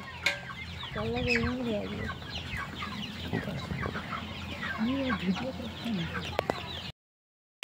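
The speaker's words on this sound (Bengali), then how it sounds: "এই যে মুরগি আসছে এটা বড়" Poultry-farm chickens cluck in short, repeated bursts close by, several birds calling over a busy yard murmur, with no clear talking.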